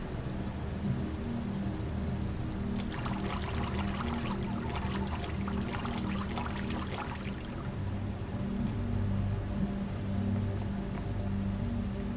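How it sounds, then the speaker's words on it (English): Flowing water in the video game Myst IV: Revelation, a steady rushing stream with splashing trickles and faint high chirps over a low ambient drone, constant and fairly close. "Water."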